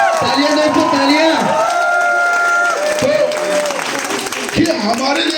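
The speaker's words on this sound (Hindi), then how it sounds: "तालियां दो तो तालियां।" An audience at a motivational event claps loudly and steadily throughout, with a raised voice talking over the applause.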